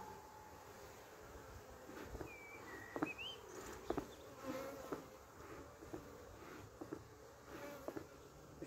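Honey bees drone in a dense, continuous buzz around opened hive frames, faint and close, with occasional soft knocks and handling sounds over the steady hum and no talk.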